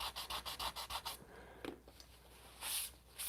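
A turntable being hand-sanded for a makeover, with rapid rhythmic rubbing strokes in a quick series of bursts, then a pause and a few scattered scrapes before two more bright rasping passes, close and fairly quiet.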